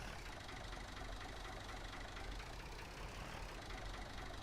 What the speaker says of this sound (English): Little tractor.